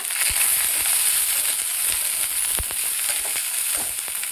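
Onion, ginger and tamarind fry in a pan for chutney, giving a constant loud hissing sizzle with scattered faint crackles and occasional stirring scrapes.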